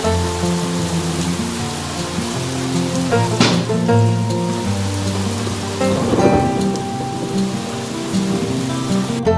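Heavy rain pours down on an early monsoon morning, a dense, steady roar of drops hitting surfaces, with a couple of louder splashing bursts rising above the constant wash.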